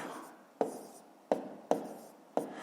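Handwritten numbers go onto paper in a quiet room, heard as four sharp, close pen or pencil strokes, each one a short scratch followed by a fading rub.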